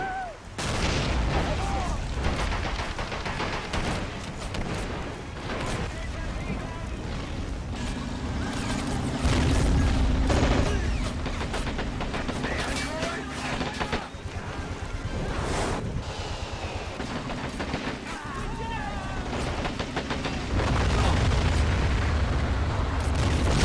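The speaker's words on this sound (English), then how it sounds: "What's that tank firing at?" Tank cannon fire in the World War II strategy game Men of War 2, heavy booms repeating through dense battle noise with rumbling low thuds and occasional voices.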